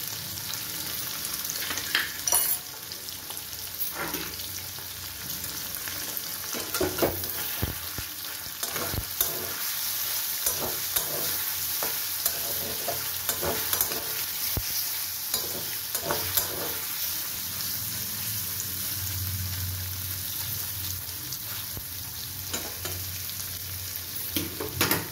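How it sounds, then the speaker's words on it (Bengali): Paneer pieces frying with turmeric in a pan for matar paneer, a soft steady sizzle broken by the repeated scrape and knock of a spatula stirring, with no talking. "আমার পনিরগুলো হালকা করে ভাজা হয়ে গেছে।"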